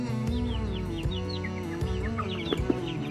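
Small chicks in a cramped indoor brooder chirp and cheep with rapid rising peeps over a busy, continuous flock chatter, close and steady, with a couple of sharper louder calls near the end.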